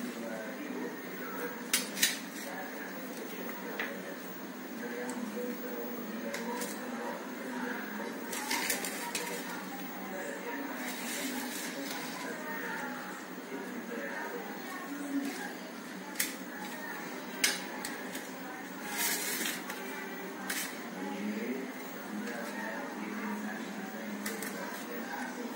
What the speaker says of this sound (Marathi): हे सगळे आयटम्स मी आता ह्याच्यामध्ये मिश्रण करणार आहे